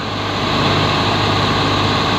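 A tractor engine idles loudly and steadily on the ground at a tractor tug-of-war (tochan) contest between a Swaraj 855 and a Mahindra, a continuous dense rumble with no pauses.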